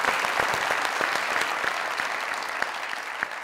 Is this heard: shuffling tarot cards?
no